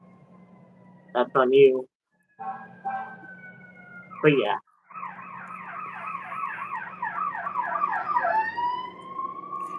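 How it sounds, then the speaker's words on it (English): An ambulance siren wails outside, rising from a few short blips into a rapid warbling yelp that grows steadily louder, with people talking over the start. "There's an ambulance outside of mine."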